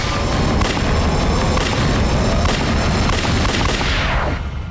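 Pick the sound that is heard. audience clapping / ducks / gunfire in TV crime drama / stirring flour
gunfire in TV crime drama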